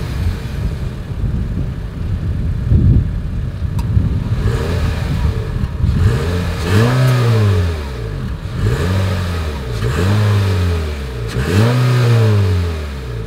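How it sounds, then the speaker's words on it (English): A 2020 Honda HR-V exhaust revs four times in a row, each burst rising in pitch and falling back to a deep idle rumble between. "As always, here is that exhaust clip."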